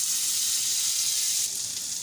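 Half a portion of butter melts in a hot kadhai for garlic rice, giving a steady, close, bright sizzle and fizz that runs unbroken and eases slightly near the end, with no talking.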